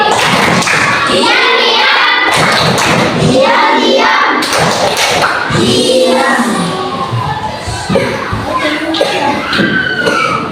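A primary school class performs a rhythmic group clapping routine, bursts of hand claps and thumps in patterned sequences mixed with children's voices shouting along in chorus, loud and close.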